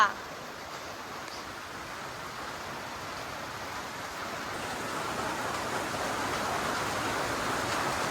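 Heavy rain falls steadily on a village home, a dense, even hiss of downpour that swells slightly louder toward the end, heard alone without talking.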